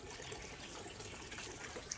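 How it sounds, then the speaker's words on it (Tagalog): Water poured into a piglets' water trough, a steady trickling splash lasting throughout at a fairly quiet level, with no voices. "Lagyan ko muna ng tubig ang kanilang lagayan ng tubig mga kababoy"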